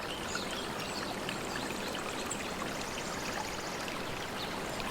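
The Wah Niriang waterfall in a Meghalaya forest gives a constant, dense rush of falling water, fairly soft and even throughout, with no voices.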